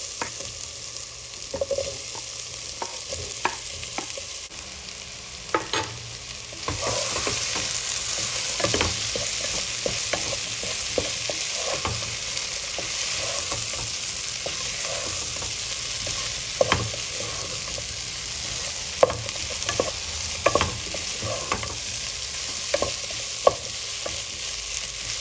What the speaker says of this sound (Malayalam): സവാളയും വെളുത്തുള്ളിയും നന്നായിട്ട് മുരിഞ്ഞിട്ടുണ്ട്. അതിലേക്ക് പൊട്ടാറ്റോ ചേർക്കാം.